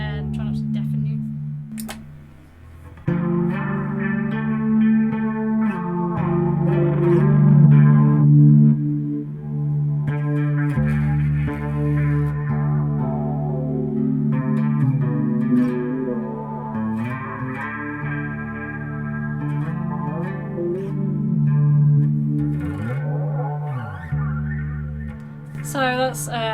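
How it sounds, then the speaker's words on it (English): An electric guitar plays through chorus, Destroy overdrive and sweep echo pedals: wavering, gritty sustained chords and melodic runs swell and shimmer, with a swooping echo sweep near the end, loud and up close, with brief vocal sounds. "So that's chorus, destroy, and sweep echo."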